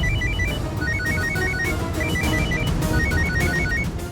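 A phone rings repeatedly in a Hindi TV drama scene. Its ringtone is a bright, repeating melodic pattern played in steady bursts over a dense background of music and room noise, with no talking.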